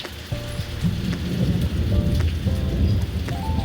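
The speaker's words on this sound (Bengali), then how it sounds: "এদিকে দেখো বন্ধুরা কত জোরে বৃষ্টি হচ্ছে" Heavy monsoon rain pours down on an evening in the Shravan rainy season, a loud, dense roar of drops beating on surfaces, with low thunder rumbling underneath.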